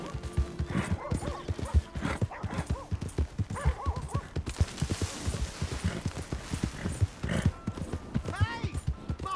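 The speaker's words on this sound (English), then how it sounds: "Hey! My horse!" Horse hooves clip-clop in a quick, steady rhythm with occasional whinnies, set against background sounds from the video game Red Dead Redemption 2; a short stretch of noise interrupts midway.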